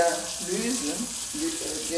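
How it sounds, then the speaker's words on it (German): Tap water runs steadily into a sink, a continuous splashing hiss filling a small room without pause. "Ich mache etwas Wasser dort hinein"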